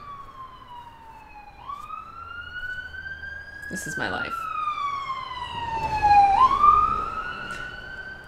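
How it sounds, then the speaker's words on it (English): A wailing siren sweeps up and down, growing louder as it approaches and passes, while a person speaks over it. "there's a siren coming."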